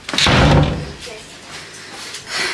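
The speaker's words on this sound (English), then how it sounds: "Shut this door." A door in a house under renovation is pushed shut with a broad thump near the start, followed by quieter room noise and shuffling movement.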